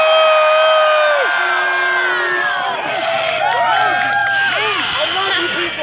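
A large crowd at an event roars and cheers for a horse, with whoops and shouting voices rising in a loud, continuous, close wash of sound.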